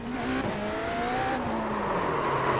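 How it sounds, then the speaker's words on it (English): Race car engine noise from a NASCAR video game, a steady droning whine with rising and falling pitch sweeps, continuous and moderately loud throughout with no talk. "Did turn down the engine noise quite a bit."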